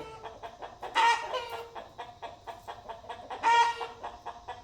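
Chickens cluck in short repeated bursts, with two louder squawking calls standing out against the steady clucking nearby.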